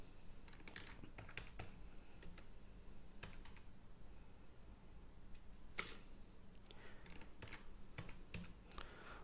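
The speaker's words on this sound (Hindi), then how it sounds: "यहाँ पे अगर मैं टाइप करूँ" Quiet, close typing on a computer keyboard: scattered light key clicks with a few sharper taps over low background hiss.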